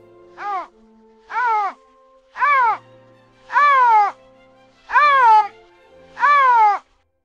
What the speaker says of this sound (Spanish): Anuncia su presencia con fuertes maullidos, que resultan desgarradores.